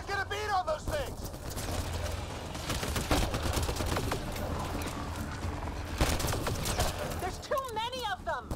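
Sustained gunfire from a firefight in Mass Effect Andromeda, dense crackling shots and bursts running continuously, with voices talking over the battle at the start and end.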